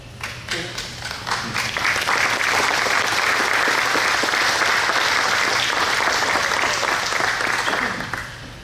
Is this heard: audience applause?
yes